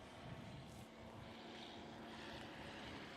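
Backcountry Boss STOL airplane on short final approach during Rocky Mountain practice, a steady propeller engine drone holding loud and even throughout.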